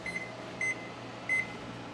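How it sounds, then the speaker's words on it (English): An oven baking keto strawberry cupcakes at 350 degrees gives off a steady, even hum, broken by three short, clear electronic beeps at regular intervals. "let's go ahead and bake these in our oven"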